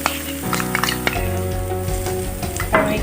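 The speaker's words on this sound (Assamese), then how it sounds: "মোৰ মছলাখিনি ফ্ৰাই কৰি আছোঁ" A paste of ginger, garlic, chilli and lentil sizzles in a hot pan, the steady frying hiss broken by soft stirring scrapes and a few clinks of utensil on metal, close and fairly quiet.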